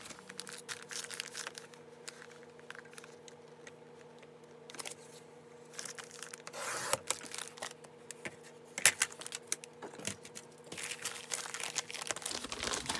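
Paper being cut with scissors and handled while making a junk journal cover, with close crinkling, rustling and snipping that swells and thickens midway, over a faint steady background hum.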